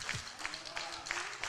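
An audience at a live album release concert applauds in a brief, moderately loud burst, with some voices mixed into the clapping.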